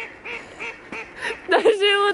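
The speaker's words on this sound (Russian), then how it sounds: "Даже утки себя орут." Ducks quack in a quick run of nasal honking calls near the end, after softer bird or voice sounds, fairly close and moderately loud.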